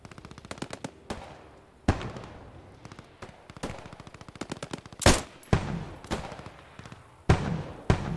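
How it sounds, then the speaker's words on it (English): Machine gun fire in the video game Post Scriptum: rapid rattling bursts of close, loud shots in repeated runs, broken by a few heavier single booms and short pauses. "Now, I have a machine gun."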